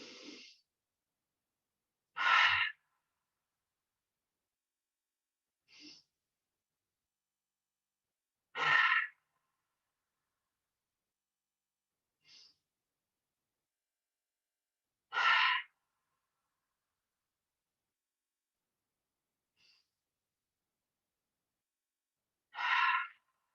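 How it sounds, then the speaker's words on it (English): Slow, deep belly breathing during a yoga class: loud, airy breaths come about every three seconds, each followed by a long quiet pause, with no talking. "and just keep breathing like that."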